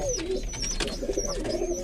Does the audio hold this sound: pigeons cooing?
yes